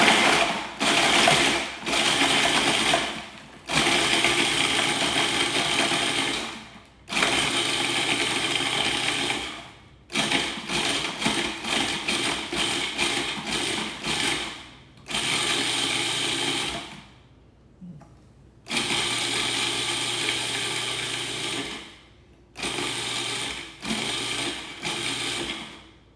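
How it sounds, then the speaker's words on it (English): A food processor grinding Oreo cookies into crumbs, running in several loud bursts of whirring motor noise separated by short pauses, alone without talk. "I'm just going to grind these up pretty quickly here in the food processor"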